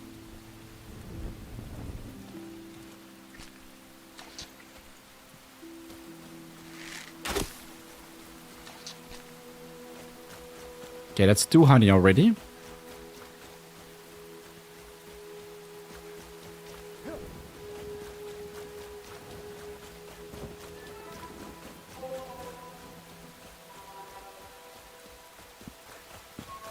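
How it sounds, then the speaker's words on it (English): Rain with rolling thunder in the survival game Enshrouded, a steady wash of rainfall under the whole scene with a loud thunder crack near the middle and a brief sharp strike earlier, while someone talks briefly at the start. "it starts raining and I can't see shit"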